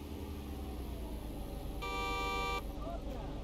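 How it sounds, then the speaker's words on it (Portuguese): A car horn in the video game Contraband Police blares in one steady honk lasting under a second, over constant engine rumble and overlapping talk. "Buzina pra outro."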